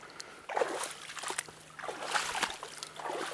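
Footsteps wade through shallow ditch water in two distinct surges of splashing and sloshing, close by and fairly loud, with a quieter trickle between them.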